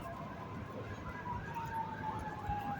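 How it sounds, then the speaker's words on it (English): Emergency vehicle sirens wail at a distance outdoors during high winds in Southgate, Michigan, a faint rising and falling tone over a constant rush of gusting wind. "You hear the sirens?"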